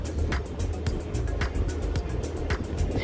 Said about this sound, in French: Et un petit tour de ferry pour aller faire les courses.